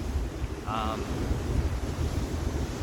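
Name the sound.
ocean waves and wind at the shore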